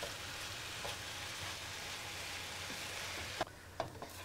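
Ground meat browning in a pan for quick spaghetti sauce, a steady dense sizzle and crackle throughout, with a couple of sharp utensil clicks and stirs near the end.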